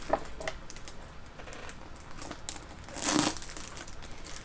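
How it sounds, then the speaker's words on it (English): A tightly taped-up ThredUp mail package being torn open, with crinkling plastic and tape crackle throughout and a louder ripping burst near the end, close by and with no talk. "So opening my taped up package."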